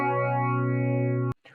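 A Behringer BM-13 phaser on its 6-stage setting processing a steady sustained tone, a dense held chord with gentle sweeping movement that cuts off abruptly, followed by a brief faint tail.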